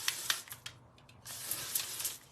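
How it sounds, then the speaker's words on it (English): Dry conditioner sprayed onto hair in several short hissing bursts, close by and fairly soft, with a brief pause partway through. "I'm spraying with the dry conditioner."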